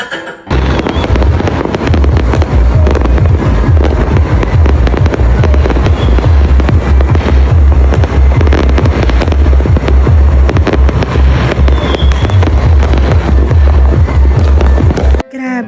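Dense, continuous crackling and booming of fireworks going off nonstop, loud and close, filling the whole stretch.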